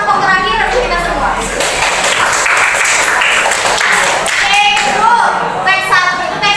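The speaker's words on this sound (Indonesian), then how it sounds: "Boleh tepuk tangan untuk kelompok terakhir kita semua" A classroom audience claps loudly for a final student group, a dense burst of many hands applauding steadily throughout, with voices talking over it.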